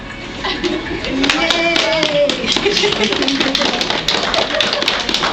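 Applause for a contestant at a Halloween costume contest at a health center, a patter of scattered hand claps and taps that continues throughout while people talk and a voice is heard.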